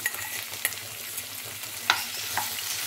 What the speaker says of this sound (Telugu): ఇది లైట్గా వేగనివ్వాలి.